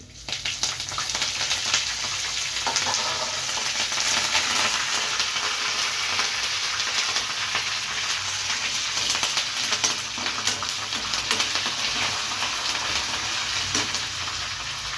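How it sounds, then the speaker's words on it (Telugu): Curry leaves sputter in hot oil after dried red chillies for an Andhra-style okra fry, producing a sustained, close hiss of frying with scattered sharp crackles and pops throughout. "కరివేపాకు వేసిన చిట్టపట్టలాడుతుంది"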